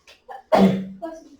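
A single sharp sneeze bursts out loud and close, framed by brief faint breathy sounds before and a short trailing voice after, in a classroom setting.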